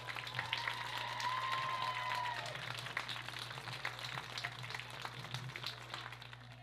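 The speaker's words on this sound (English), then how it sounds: "Another round of applause for all the seniors in tonight's game." A crowd at a girls' high school soccer senior night applauds steadily, sustained clapping from many hands that gradually tapers off, with a faint tone and hum underneath.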